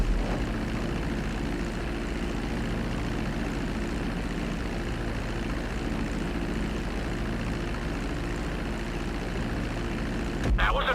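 A propeller airplane flies during a GTA video game flight lesson, its engine drone holding a loud, steady hum throughout, with a brief burst of extra noise near the end.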